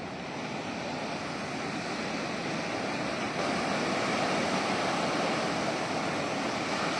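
Ocean waves rolling onto a beach, a steady broadband wash of surf with wind rumble, continuous and fairly distant with no voices.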